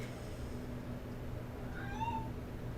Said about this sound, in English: Oh my god, this fucking cat.